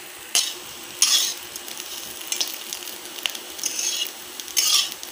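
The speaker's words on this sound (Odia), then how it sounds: "ଦେଖନ୍ତୁ, ଆମର ଅଣ୍ଡା ଭଜା ହୋଇଗଲା।" Egg frying in a pan, a fried-egg dish served with pakhala rice: steady close sizzle with brief bursts of crackle and a few scraping stirs, no voices.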